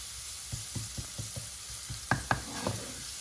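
Garlic sizzling and browning in a frying pan for a king prawn vindaloo, a soft steady sizzle with a series of light taps and clicks from stirring, fairly quiet and close.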